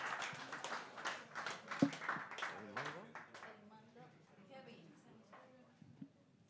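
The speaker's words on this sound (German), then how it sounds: "Also großer Applaus für Professor Eduardo Ross." A bar audience at an Astronomy on Tap science night applauds a guest professor, a dense wash of clapping through the first half that thins out and fades while voices carry on underneath.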